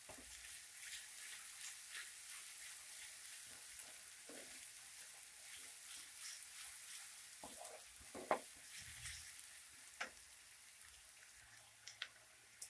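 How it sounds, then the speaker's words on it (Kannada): Onions fry on high flame, a faint steady sizzle with scattered soft crackles and the occasional stir or clink of a utensil in the pan. "ಹೈ ಫ್ಲೇಮಲ್ಲೇ 2 ನಿಮಿಷ ಫ್ರೈ ಮಾಡ್ಕೊಳ್ಳಿ ಚೆನ್ನಾಗಿ ಈರುಳ್ಳಿನ"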